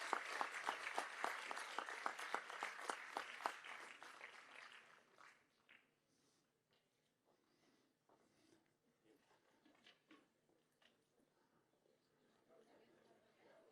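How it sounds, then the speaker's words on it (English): Applause at the opening ceremony of an international forum on AI ethics, a few seconds of brisk crowd clapping that fades into scattered claps and quiet murmuring in a large room. "I think applause would help to cheer the people."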